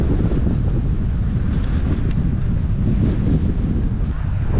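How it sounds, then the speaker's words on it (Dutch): Strong headwind buffeting the microphone during a mountain bike ride along a beach in Schoorl, North Holland: a loud, continuous low rumbling roar with gusty fluctuations throughout. "Vette tegenwind!"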